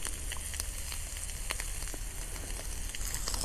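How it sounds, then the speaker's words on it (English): Bacon frying in a pan over a camp stove outdoors in a forest, on fairly low heat, gives a steady soft sizzle with scattered small pops and crackles throughout. "Something about the smell of bacon cooking in the forest or outside."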